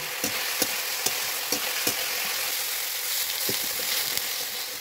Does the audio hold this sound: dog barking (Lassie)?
no